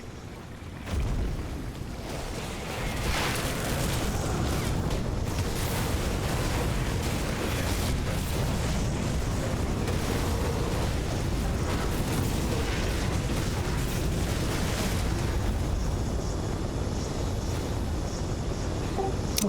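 Explosions and fire in the action role-playing video game Grim Dawn form a dense, continuous rumble of booms and crackling blasts, loud and relentless throughout with no pauses.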